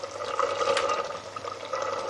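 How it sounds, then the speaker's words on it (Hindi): Washed green peas tipped into a pan of masala frying in oil for restaurant-style matar paneer, giving a steady, close, hissing sizzle that holds for about two seconds. "तो अब इस टाइम पे हमने मटर शामिल कर देना है।"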